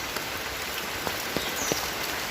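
Constant heavy rain patters on a surface near areca nut gardens and a pond, with a few sharper drops hitting nearby.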